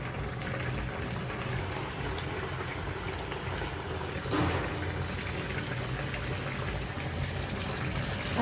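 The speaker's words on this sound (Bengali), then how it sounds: "আজকে মাছ ভেজে নিচ্ছি সরিষার তেল দিয়ে" Fish frying in mustard oil makes a continuous, even crackling hiss, like light rain, with a slight swell midway.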